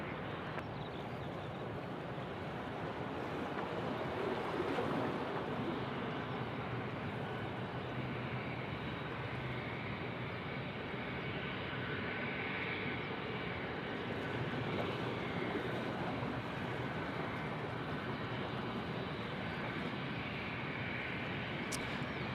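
Virgin Australia flight 924 from Brisbane arriving at Sydney Airport, a jet airliner's steady broadband engine roar holding constant throughout, heard from a distance with wind across the open airfield.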